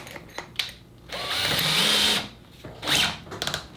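A Festool cordless drill with its Jacob's chuck opened up, whirring in a few bursts: a short blip, then a sustained run of about a second and a half, and a final brief spin, close and fairly loud.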